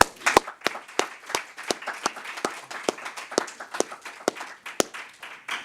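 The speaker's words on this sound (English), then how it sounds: "So please give them a round of applause." Audience applause after a panel discussion at a humanitarian Q&A event, made up of distinct, fairly sparse claps in an uneven rhythm, close and moderately loud, suggesting a small group clapping rather than a large crowd.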